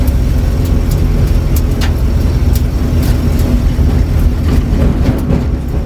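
A 1953 Willys Overland pickup truck, on its first drive in 47 years, rumbles along with a loud, steady low engine drone and road noise, punctuated by intermittent rattles and clunks.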